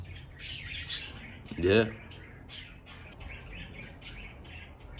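A pet sun conure parrot gives a loud, sharp call with stacked harmonics around the two-second mark, with fainter chirps before and after, while a person talks briefly over quiet room noise.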